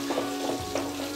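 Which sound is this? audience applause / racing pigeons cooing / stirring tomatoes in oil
stirring tomatoes in oil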